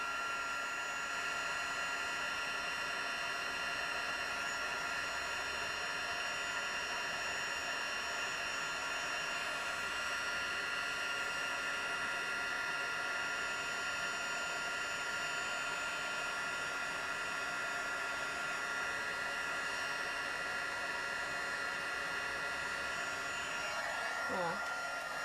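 Heat tool blowing a steady, loud, unbroken whoosh with a whining hum as it melts metallic embossing powder on dark card, continuing throughout with no break and no talking.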